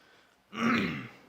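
A single close, short throat clearing, a gravelly rasp lasting about half a second.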